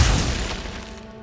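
A Glacius freezing spell shattering in Hogwarts Legacy, a single crisp, loud crack and crumble of breaking ice that fades over about a second, with no voices.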